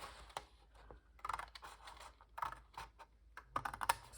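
Scissors cut along a score line in card stock for a handmade Christmas card. The snips are soft, close and quiet, coming as irregular crisp clicks with brief pauses, and no one speaks.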